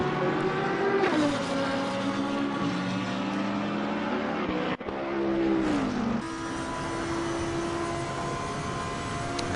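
Number 4 Lamborghini race car at Mount Panorama, a loud engine roaring continuously with pitch drops at gear changes and a brief cut in the middle, heard up close as if on board.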